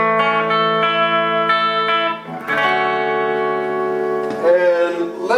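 Clean electric guitar tone played through a mini reverb pedal, sustained chords and single notes ringing with a smooth reverb tail, steady and fairly loud with a brief dip midway.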